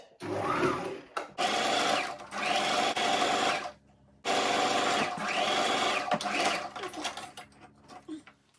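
A sewing machine stitches tulle mesh fabric for a ready-to-wear turban in loud, steady runs of whirring motor, with a few short pauses between bursts and no talking.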